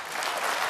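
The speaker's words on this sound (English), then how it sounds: "He gets some applause" Audience applause at a professional snooker semi-final between Judd Trump and John Higgins, a steady, moderately loud patter of clapping from a crowd in the arena.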